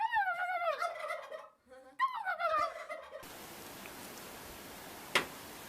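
Turkeys gobble in two loud, warbling bursts nearby, followed by quieter outdoor background with a brief click.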